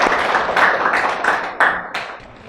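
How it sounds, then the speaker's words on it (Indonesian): Classroom applause from a group of students, a steady patter of many hands clapping close by for about two and a half seconds, with a few sharper individual claps standing out near the end. "Tepuk tangan dulu untuk temannya."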